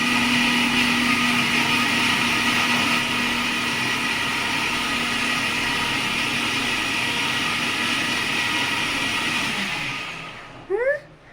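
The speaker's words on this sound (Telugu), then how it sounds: "మిక్సీ ఆన్ చేయనా?" A mixer grinder runs with a steady, loud motor whine, then spins down and stops, followed by a brief clatter.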